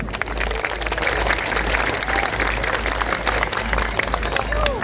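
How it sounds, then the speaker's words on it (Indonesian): A crowd at an outdoor religious gathering celebrating Indonesian Independence Day applauds a guest, a sustained, dense patter of many hands at a distance, with a low steady hum underneath and faint voices mixed in. "Tepuk tangan untuk beliau"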